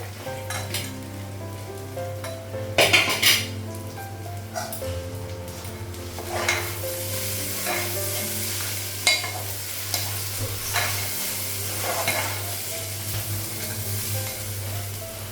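Cashews and raisins fry in a pan in a home kitchen, with steady sizzling broken by repeated scrapes and clinks of a spatula stirring against the metal.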